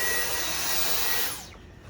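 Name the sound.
Dyson vacuum cleaner clearing a dryer vent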